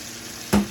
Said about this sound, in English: we're going to use some of that bacon fat. And we're going to cook up our potatoes in it